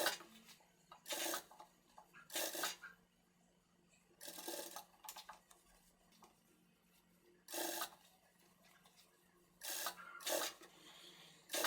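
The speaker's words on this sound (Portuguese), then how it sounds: "rebater um pesponto com a distância de meio calcador" Sewing machine topstitching the neckline of a ruffled top, with several short bursts of rapid stitching separated by quiet pauses, fairly faint and close, no talk.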